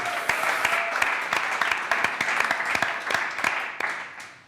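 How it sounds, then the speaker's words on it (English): An audience at a conference stage session applauds a panel, a few seconds of steady, moderately sized clapping heard from within the room that slowly tapers off. "could you please give a round of applause to our panel?"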